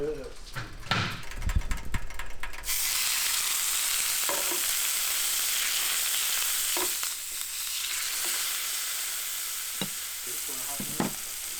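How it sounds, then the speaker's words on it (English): Steak sizzling on a plug-in stovetop cooker, a steady loud hiss that begins a couple of seconds in after some clattering, with people talking and occasional knocks over it. "it sizzles when you put the meat on"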